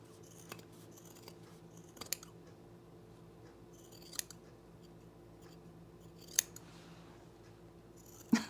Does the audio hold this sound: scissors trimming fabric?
yes